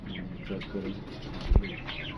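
Pigeons in a loft in Lahore, roughly sixty to seventy flying birds, coo softly and flutter, with one sharp burst of wing flapping standing out near the end amid a low murmur of voices.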